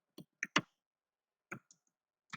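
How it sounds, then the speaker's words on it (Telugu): A few sparse key clicks from a computer keyboard while an address is typed into a Microsoft Word letterpad, close and quiet, in two small bursts separated by silence. "సో ఇక్కడ నేను టైప్ చేస్తున్నాను."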